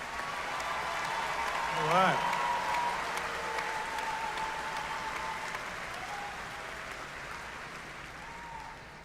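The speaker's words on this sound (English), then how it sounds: "Let's give them a round of applause." An audience applauds cum laude graduates at a university spring commencement, a steady wash of clapping filling the hall throughout, while a speaker's voice briefly comes through over the applause near the start.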